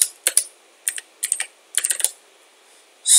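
Python code tapped out on a computer keyboard, close up, in quick clusters of key clicks separated by short pauses, ending in a louder burst.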